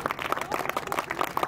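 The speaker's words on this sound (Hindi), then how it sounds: "चलो बहुत जोरदार तालियां बजाओ" An audience at the Rim Defence Academy annual function claps in a dense, steady burst of applause that fills the whole short moment at moderate loudness.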